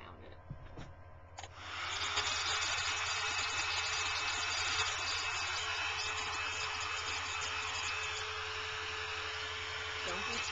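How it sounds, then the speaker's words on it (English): A handheld blow dryer switches on after a moment of quiet and runs with a loud, steady airy whoosh and motor whine, close by, for several seconds. "Hit it with the blow dryer there."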